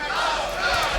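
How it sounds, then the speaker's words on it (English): A boxing arena crowd chants the name Lopez during a Kostya Tszyu versus Hector Lopez fight, a broad roaring swell of many voices filling the hall, loud and continuous. "now the chant from the crowd of Lopez"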